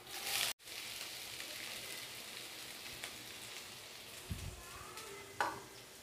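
Onions and green chillies sauté in a pan, a soft steady sizzle with a brief clatter near the start and a few light stirring scrapes later on.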